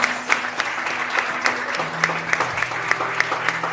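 A church congregation at a Thursday prophetic service claps steadily for several seconds, the applause close and continuous with sustained musical tones held underneath.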